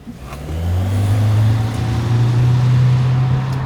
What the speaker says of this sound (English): you can at least hear that engine struggling